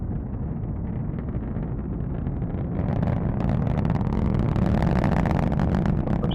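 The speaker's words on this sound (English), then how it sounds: "Let's listen to the roar of those 9 Merlin engines." A deep, continuous roar of a SpaceX Falcon 9's nine Merlin rocket engines at launch, heard from a distance, swelling louder and harsher partway through with crackling texture.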